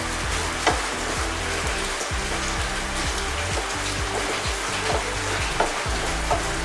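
Chicken pathiri filling sizzles and fries steadily in a pan while a spoon stirs it, with irregular scraping knocks running through the continuous crackle.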